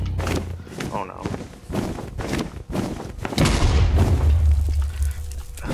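A bed blows up in Minecraft during an Ender Dragon fight, a deep booming blast that swells and lingers after a series of thumps, with talk over it.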